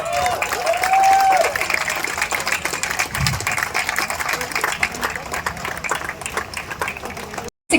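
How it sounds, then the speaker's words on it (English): Crowd at a tournament trophy presentation applauding the winner, a dense, steady clapping that runs for several seconds with a voice briefly over the start, ending in an abrupt cut. "Big round of applause there for the winner."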